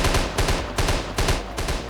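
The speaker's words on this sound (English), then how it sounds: "But here we have the twin cannon." A twin cannon firing in the Minecraft Create Mod, loud and close, letting off about five quick paired booms in a steady rhythm with no talking.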